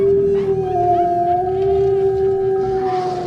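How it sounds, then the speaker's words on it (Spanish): Ranch dogs howl in a long, sustained, eerie wail, one steady drawn-out tone carrying loudly throughout. "los perros del rancho empezaron a aullar terroríficamente"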